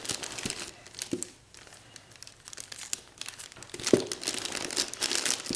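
Gift wrapping paper crinkles and crackles as it is folded into a triangle and stuck down, a close run of dry crumpling rustles with a few sharper crisp snaps.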